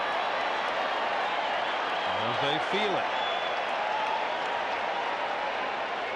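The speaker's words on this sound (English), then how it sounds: "the crowd noise grows even more" Baseball crowd at a 1995 NLDS playoff game between the Braves and Rockies swelling into a loud, sustained roar of cheering and clapping, with a brief shout rising out of the din and a commentator talking over it.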